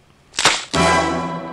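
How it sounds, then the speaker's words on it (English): Two sharp cracks close together, the second ringing out with a long metallic tail, a cinematic gunshot effect from the 1963 film From Russia with Love. "Heard that bullet effect before"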